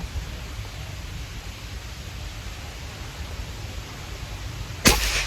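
A PCP Bocap Xtra Big Bengal air rifle fires its fifth shot at a target, a single sharp crack near the end after several seconds of steady background hiss.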